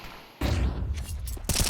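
MAC-10 submachine gun fire in a Counter-Strike match on the Anubis map, with sharp bursts of rapid shots in two clusters. A short gap separates them, and the second burst comes at the very end.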